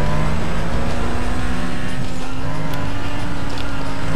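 A car engine in the racing game Need for Speed Most Wanted drones loudly and continuously, holding a steady revving tone throughout with no pauses.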